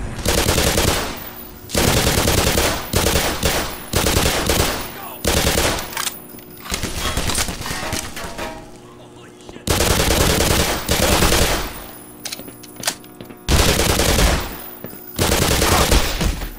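Shotgun fire in the Half-Life remake Black Mesa, loud blasts in repeated bursts separated by brief quiet gaps, mixed with heavy combat noise.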